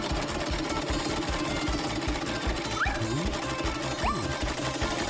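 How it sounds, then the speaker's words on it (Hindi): Sewing machine stitching a doll outfit, its needle hammering in a fast, even mechanical rhythm close by, steady throughout with a couple of faint squeaks over the clatter. "मेरी स्विंग मशीन हमेशा मेरे काम आती है। मैं एक कंस्ट्रक्शन आउटफिट सिलती हूँ।"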